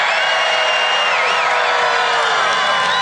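A large crowd at a political rally cheers and whoops in a dense, continuous roar, loud and sustained throughout, with scattered high shouts rising above the mass of voices.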